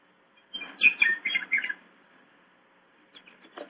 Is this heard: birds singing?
yes